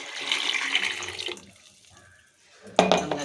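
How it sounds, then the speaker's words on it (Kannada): Coconut milk poured into a pot while cooking spinach pulao, a steady liquid splashing and trickling for over a second, then a quiet pause before a louder clatter near the end. "ತೆಂಗಿನಕಾಯಿ ಹಾಲು ಹಾಕ್ಕೊಳ್ಬೇಕು."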